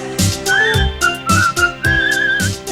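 A person whistling a cheerful tune in a 1991 children's song, clear, loud, close melodic notes over a bouncy musical backing.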